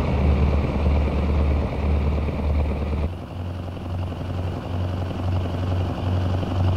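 A heavy 120-tonne truck engine in American Truck Simulator drones loud and steady at close range, with a throbbing low pulse that shifts tone partway through. No one talks.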